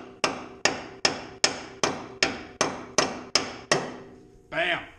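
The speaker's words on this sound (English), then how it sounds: "we're just gonna smack this son of a gun till it pops" Nine loud, evenly spaced hammer blows ring out on a car's upper ball joint as it is struck to pop it loose, each a sharp metallic crack with a short decaying ring, followed by a brief muffled scrape.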